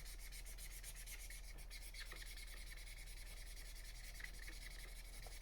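Faint, continuous scratchy rubbing on paper to test whether marker ink has dried, a soft dry friction sound that goes on steadily with a few slightly louder strokes and no talking.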